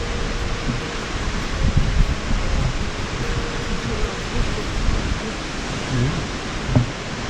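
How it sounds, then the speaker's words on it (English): Rainbow Falls, a large waterfall near Hilo, sends up a broad, steady rushing roar that fills the whole clip. Faint wind buffeting comes and goes over it, with no clear talk. "This is a much bigger waterfall."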